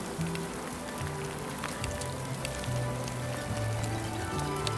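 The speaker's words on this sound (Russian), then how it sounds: "А у нас, ребята, не дождь пошел, а снег." Mixed sleet and hail, half snow and half hail, falling during feeder fishing on a river, a steady dense patter of ticking and hissing drops with a low hum beneath.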